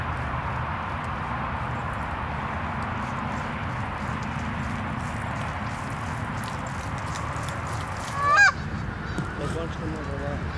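Geese honk while flying over open wild country, their calls faint and distant above a constant wind or engine rumble, with one brief louder call near the end.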